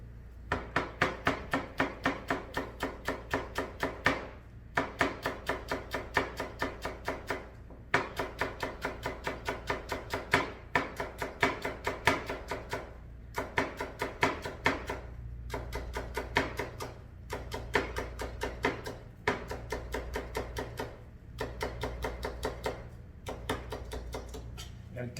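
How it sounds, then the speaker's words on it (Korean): Kitchen knife slicing rolled-up perilla leaves with the stems trimmed off, cut into thin strips on a cutting board: rapid, evenly spaced chopping strikes continue throughout over a steady background tone, with short pauses between runs. "깻잎은 썰으실 때 꼭지 부분을 잘라내시고 돌돌돌돌 이렇게 돌돌돌돌 마르셔서"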